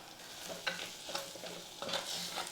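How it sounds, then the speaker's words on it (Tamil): Spice masala being sautéed in a pan, with soft sizzling under quiet, intermittent scrapes of stirring, all fairly faint and without talk. "மசாலா சேர்த்து ஒரு 30 செகண்ட் நல்லா வதக்கலாம்"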